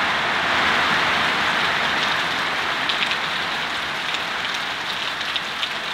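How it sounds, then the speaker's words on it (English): Heavy rain pours steadily onto a pond, a dense, continuous hiss of countless drops with occasional sharper patters close by. "there's literally thousands of raindrops all dropping on the top of the pond."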